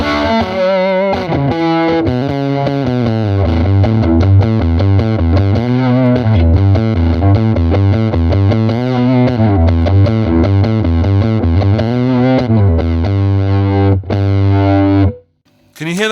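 An electric guitar with humbucker pickups plays through a Birdsong Kestrel amp in a 70s rock style: loud, heavily distorted sustained chords and riffs ring continuously before a brief cutoff near the end.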